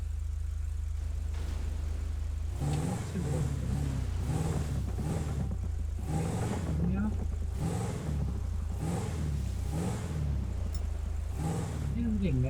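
A car engine in GTA 5 hums steadily while driving, a low drone with rhythmic revving swells repeating every second or so, heard under continuous talk.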